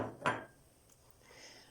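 A lid is set onto a pot of soup with broth, making a single quiet clink followed by faint kitchen quiet.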